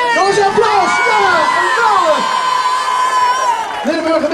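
Children at a school art prize ceremony cheer loudly, with rising and falling shouts and whoops over a crowd murmur; the cheering is close and energetic, eases for a moment, then bursts up again near the end.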